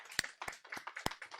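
Short burst of congregational clapping in a church service, several uneven claps close together over about a second and a half, fairly quiet with no talk.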